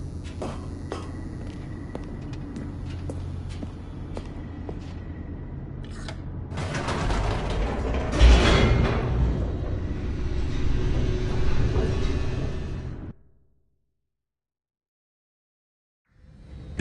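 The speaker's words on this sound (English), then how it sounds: "The elevator raced downward, plummeting towards an unknown fate." An elevator descends in The Stanley Parable, a low mechanical rumble and rattle that swells and grows louder with a thud partway, then cuts off abruptly into silence.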